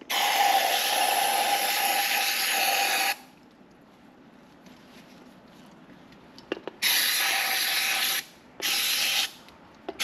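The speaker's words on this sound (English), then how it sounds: "getting a good quality brake cleaner really does help, especially because these cans pump out a ton of pressure" A can of brake cleaner sprays a hard, loud aerosol hiss into an SXS/UTV axle's CV joint to blast out debris. A long burst is followed by a quieter gap with small clicks, then two shorter bursts.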